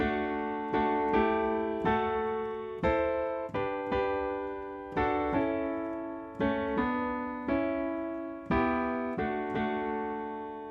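Piano plays two notes together in a repeated pattern, each pair struck clearly and left to ring before the next, at moderate volume with no voices.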